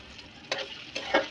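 Chopped onions fry in hot oil with bay leaf, cinnamon, cardamom and cumin, a soft crackling sizzle broken by a few brief stirring scrapes, quiet and close.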